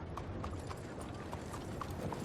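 Horse hooves clip-clop steadily in Red Dead Redemption 2 as the rider moves along, a soft repeating beat sitting inside a dense, continuous bed of ambient game noise.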